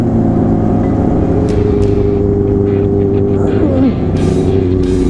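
Sport motorcycles such as an R1, ZX6R, FZ07, CBR600RR and S1000RR cruise through heavy traffic, a steady loud engine drone with layered harmonics and a brief dip in pitch near the end, alongside wind rush and a voice.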